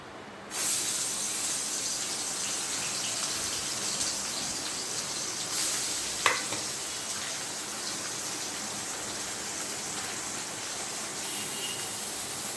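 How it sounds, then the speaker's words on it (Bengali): Tangra fish rubbed with turmeric and salt begin to fry in a pan, bursting into a sudden steady sizzle and hiss that continues evenly, with no one talking. "এবারে আমি মাছগুলোকে ভেজে নেব।"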